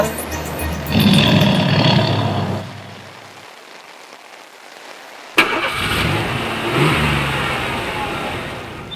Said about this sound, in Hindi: पता है तो चलाइए ना गाड़ी